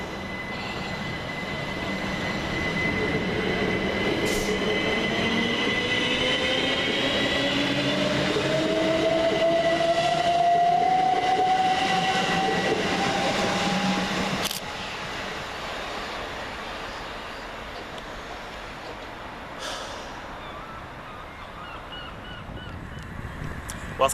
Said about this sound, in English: Next train for departure is 377411, working the 1240 Southern service from Portsmouth and Southsea to Brighton